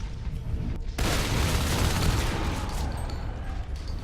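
Heavy weapons fire and booms from a Natural Selection 2 match, a sudden loud burst of dense shooting and explosions that keeps rumbling on close up.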